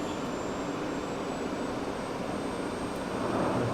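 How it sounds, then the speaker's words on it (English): A steady, broad jet engine roar with a thin high whine running across it, swelling slightly louder near the end as the turbine spools up at startup in the X-Plane 12 flight simulator. "we can hear the turbine turning"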